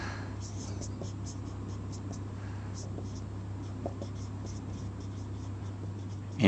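Handwriting with a pen on paper during a lesson on analog communication: light, scratchy strokes come in irregular bursts, quiet and close over a steady low hum, and no one speaks.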